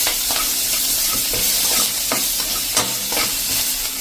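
Ginger and curry leaves spit and sizzle in hot oil as a tempering, a bright steady hiss broken by sharp pops and crackles, close up with no voices.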